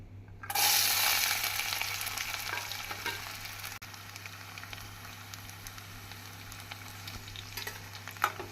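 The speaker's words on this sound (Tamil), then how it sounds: "பூண்டு பொன்னிறம் ஆகும் வரை நாம் நன்றாக வதக்க வேண்டும்" Garlic frying in hot oil for a pickle, a loud sizzle bursting in near the start and then settling into a steady crackling hiss, with occasional stirring scrapes and no talking.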